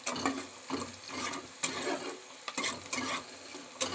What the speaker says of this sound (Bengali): এবার একটু নাড়াচাড়া করে ভেজে নেব।